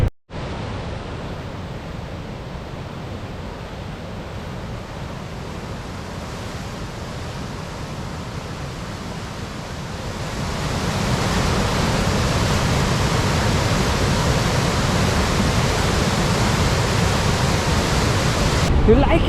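Water thunders steadily over Niagara Falls, a dense, unbroken roar heard from nearby that swells noticeably louder halfway through and then holds, with no distinct voices over it.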